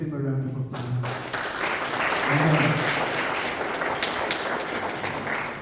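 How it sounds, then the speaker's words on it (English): A church congregation bursts into applause after a brief voice, a sustained wash of clapping that swells and holds steady for several seconds. "These people prayed for you. Give them a round of applause."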